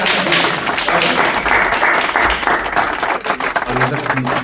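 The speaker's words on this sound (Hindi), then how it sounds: "एक बार जोरदार तालियों से" An audience at a Hindi poetry gathering in a studio claps heartily, dense continuous applause under and alongside voices throughout the few seconds.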